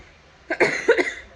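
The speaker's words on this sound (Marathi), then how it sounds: "आयज सडनली कोण जाणा कशी खोकली बीन येता" Two or three quick, harsh coughs in a short burst, close and fairly loud, with no talking around them.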